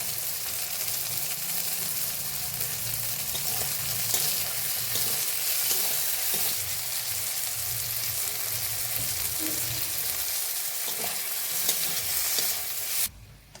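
Neem leaves go into a pan with already-fried eggplant, and a steady close sizzle runs throughout with the occasional stir and clatter, then cuts off abruptly at the end. No one speaks.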